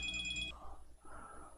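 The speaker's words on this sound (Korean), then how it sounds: "방금 무슨 소리를 들으셨죠? 전화가 왔는데" A phone rings with an incoming call: a bright electronic ringtone repeats for about half a second, then cuts off, leaving quiet room noise and faint muffled movement.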